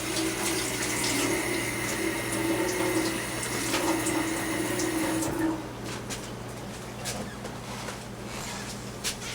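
Tap water runs steadily into a sink while hands are rinsed during beef jerky preparation, a continuous close hiss and splash that thins out and quiets partway through.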